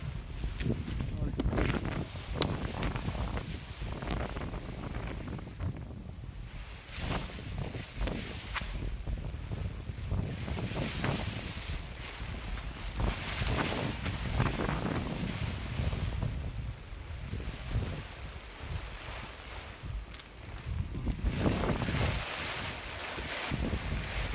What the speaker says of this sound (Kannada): ಗಾಳಿ ಸ್ವಲ್ಪ ಕಡಿಮೆ ಆಯಿತು